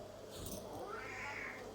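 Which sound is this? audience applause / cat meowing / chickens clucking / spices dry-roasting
cat meowing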